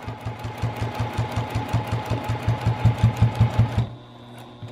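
Sewing machine stitching a fabric knitting supply caddy, a rapid rhythmic mechanical chatter that runs steadily close-up for several seconds, then stops, leaving a quiet hum.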